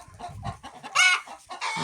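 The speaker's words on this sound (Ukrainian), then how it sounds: "Випускаємо індічків." Poultry calls as turkeys are let out of a shed into the yard on a small winter farm: a couple of close clucking and gobbling bursts, the loudest near the middle, mixed with scuffling movement.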